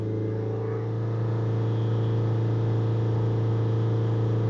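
A VW Crafter MK2 van's diesel engine holds steady at raised revs around 2500 rpm, a continuous close hum with a strong low tone and no speech.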